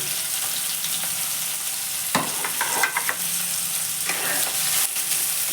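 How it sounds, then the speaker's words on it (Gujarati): Chopped onions frying in hot oil with cumin seeds, a loud continuous sizzle with a few clinks of a stirring utensil, no talking. "એને બરાબર ફ્રાય કરવા દઈએ"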